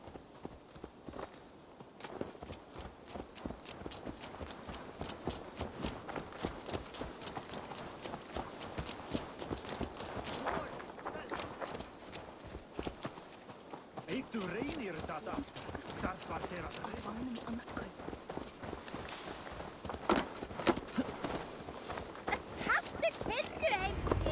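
A horse's hooves clip-clop steadily and continuously on the ground in the video game Assassin's Creed Valhalla, with a dense rhythmic beat that persists throughout among other game sounds.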